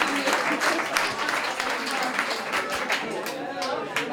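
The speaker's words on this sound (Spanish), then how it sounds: "Les dais otro aplauso fuerte, por favor, a los chicos de Physics League" An audience at a beer chemistry science talk gives a loud round of applause for a group of young presenters, with close, dense clapping sustained throughout and some crowd voices mixed in.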